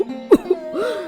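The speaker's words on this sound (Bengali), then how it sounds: "কাশিটা আগের চেয়ে অনেক বেশি" An older woman suffering from a worsening cough lets out one short, close cough amid brief throaty, voiced sounds.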